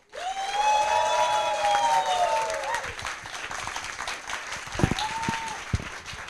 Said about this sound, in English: please give a huge round of applause to Alex Fernandez